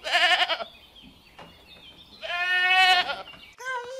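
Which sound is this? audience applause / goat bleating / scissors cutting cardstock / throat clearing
goat bleating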